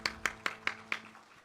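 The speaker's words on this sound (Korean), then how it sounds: "우리 나의 힘이 되신 하나님께 영광의 박수 올리겠습니다." Hands clap in a church during a Sunday worship service: five sharp, evenly spaced claps in quick rhythm, fairly quiet, with a little room echo and nothing else around them.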